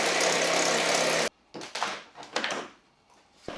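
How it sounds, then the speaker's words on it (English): A jigsaw runs loud and buzzing as it cuts through a rough sawn chestnut slab, then stops abruptly, followed by a few knocks and handling sounds before it briefly restarts. "so I cut it with a jigsaw"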